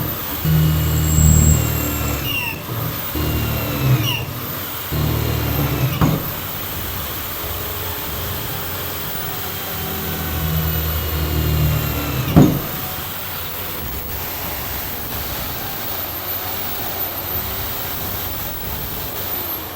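A 10 kW Liberty Engine electrical generator, a 110V-230V single- and three-phase unit, runs with a steady mechanical hum and faint whine. A few sharp clicks cut through the drone, with no voices.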